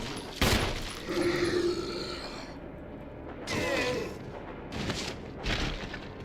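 Gunfire from a handgun in the Resident Evil 1 video game, two or three loud, sharp reports spaced apart over a murky ambient background, with game creaks and a brief voice-like moan between shots.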